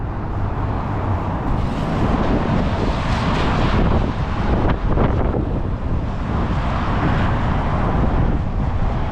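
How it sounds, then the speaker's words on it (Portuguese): Strong, cold wind roars steadily against the microphone, a dense continuous rumble and hiss with no voices, at the Strait of Magellan. "E agora vamos voltar para casa porque está ventando e frio."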